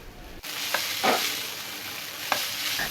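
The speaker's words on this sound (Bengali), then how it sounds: "হালকা পাতলা একটু নেড়ে চেড়ে নিয়েছি" Korean spicy noodles being stirred and fried in a pan, a steady soft sizzle with a few scraping stir strokes, close and moderately loud with no talking.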